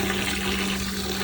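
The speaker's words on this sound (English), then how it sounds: "let me get some hot water quickly" Hot water gushing from a tap at a shop, a steady loud rushing stream with a constant low hum beneath it and no talk.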